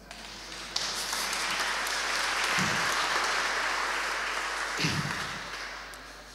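A church congregation applauds in a sustained burst of clapping that swells and fades over several seconds, heard from some distance in a large room.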